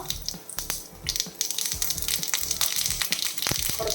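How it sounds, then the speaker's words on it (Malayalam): Mustard seeds crackle and pop in hot coconut oil, a close, dense spattering sizzle with rapid irregular snaps that grows busier over a few seconds. "നമുക്കൊരു ടീസ്പൂൺ കടുക് കൊടുക്കാം"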